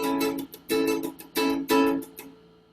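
An acoustic-style guitar strums chords in a songwriting exercise. Strummed hits alternate with short muted chops in a choppy rhythm of about five accented bursts, close and moderately loud with no talking.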